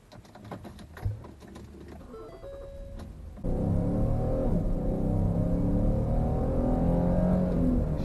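A Ford Flex family crossover pulls away and accelerates, its engine and road noise rising abruptly into a steady, loud drone after a few seconds of quieter cabin ticking and clicks.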